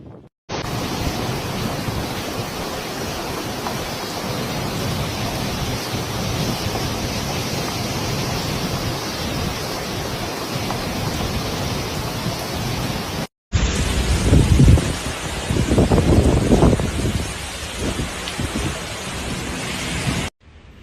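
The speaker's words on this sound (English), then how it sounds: "bombarding the island with torrential rains, powerful winds, and a mix of extreme weather threats" Super typhoon Kong-Rey lashes Taiwan with torrential rain and powerful winds of about 200 km/h, a loud unbroken roar that breaks off briefly, then returns with heavier gusting bursts.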